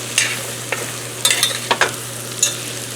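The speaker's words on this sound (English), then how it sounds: "we're going to cook down our mushrooms, and then using our extraordinarily fancy tool, the spoon," Mushrooms cooking down in a hot pan, a low steady sizzle punctuated by several sharp clicks and scrapes of a spoon stirring them around, close and without speech.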